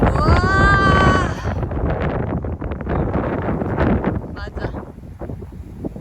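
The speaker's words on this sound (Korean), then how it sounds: "바람 엄청 분다." Strong wind gusts at an outdoor lookout facing a downtown skyline in Canada, buffeting the microphone with loud rushing noise while people talk over it.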